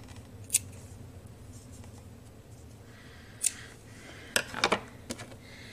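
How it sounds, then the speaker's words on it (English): Scissors snip the edges of a small turtle craft, a few sharp close cuts scattered over a quiet room, with a quick cluster of snips near the end. "I'm gonna trim up some of my edges"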